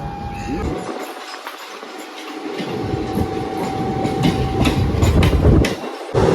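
The Yelagiri Express passenger train rolls along the rails with a steady, fairly loud rhythmic clickety-clack and rumble, joined by a faint sustained tone.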